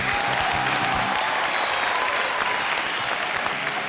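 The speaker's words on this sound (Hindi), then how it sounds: "तालियां प्लीज" Studio audience applause on a Hindi TV game show after a contestant leaves with winnings, a loud, dense, continuous wash of clapping that holds steady throughout.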